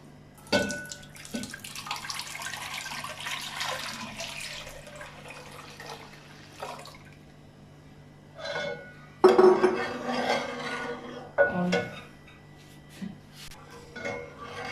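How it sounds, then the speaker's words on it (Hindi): Milk pours into a cooking pot on a stove with a steady liquid splash, then light clinks of metal utensils and pot handling, close by and moderately quiet. "दूध डाल लेते हैं पतीले में।"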